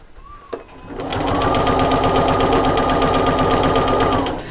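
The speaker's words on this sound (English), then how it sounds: "I'm stitching a good eighth of an inch away from the edge of my fabric" Sewing machine with a walking foot stitches quilted fabric for a shopper bag, starting after a small click and running as a fast, steady, close mechanical whirr of needle strokes for several seconds.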